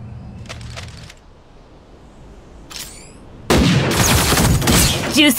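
Gunfire in the video game Super Mecha Champions: a couple of short distant bursts, then a loud sustained volley of rapid shots cracking near the end.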